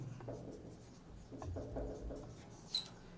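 Marker or chalk writing on a board during a biology lecture, with faint scratchy strokes and taps at close range, quiet and brief.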